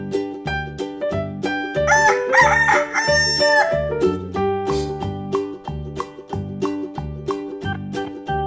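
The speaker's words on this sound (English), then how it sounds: "Rooster." A rooster crows in a children's animal-learning puzzle game, one drawn-out cock-a-doodle-doo rising over steady, bouncy background music, fairly loud and close.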